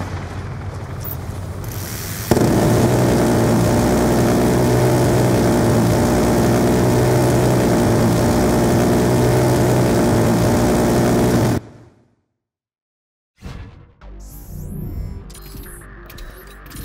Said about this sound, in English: Hostile stealth chopper inbound.